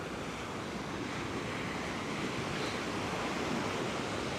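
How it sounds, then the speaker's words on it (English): Ocean surf at Coney Island in New York City rushes in a continuous, dense wash, loud and close throughout, with a windy hiss and no distinct breaks between waves. "You like the sound of the ocean?"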